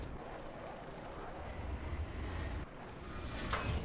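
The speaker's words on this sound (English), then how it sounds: "The jet landed on me." A jet aircraft in the video game Battlefield 4, a steady loud engine roar that swells slightly toward the end, heard alone without talk.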